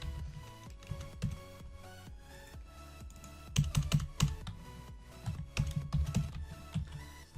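Rapid typing on a computer keyboard, close and crisp, with uneven bursts of key clicks and a few louder flurries and short pauses between them.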